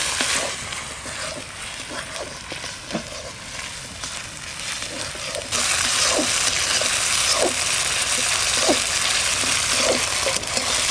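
Garlic and green chili paste frying with duck meat in a pan, a continuous crackling sizzle that grows louder partway through, with regular soft scraping of a spatula stirring.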